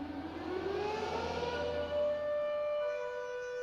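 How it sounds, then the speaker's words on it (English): A civil defence siren tested over Berkshire wails from a distance, its tone sliding steadily upward and then holding a sustained pitch over a low ambient rumble. "Each Monday at 10, a siren sounds over 15 miles of Berkshire, testing the alarm in case of an escape from Broadmoor"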